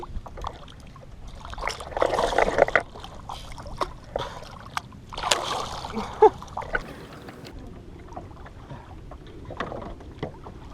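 A hooked tarpon thrashes beside a small fishing boat, throwing up two broad, noisy bursts of splashing water, with lighter sloshing and dripping between them.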